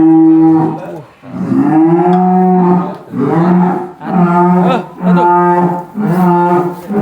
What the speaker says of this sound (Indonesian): Aventador, sapi yang akan meramaikan di Tegal, area Tegal